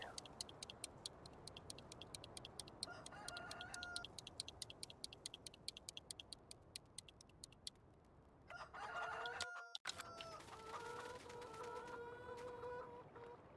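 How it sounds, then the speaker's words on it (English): Game chickens in Farming Simulator 19 cluck and crow repeatedly in steady rhythmic bursts, joined by busier flock calls later, over a constant ambient farm bed with no talk. "Always causing trouble, bloody chickens."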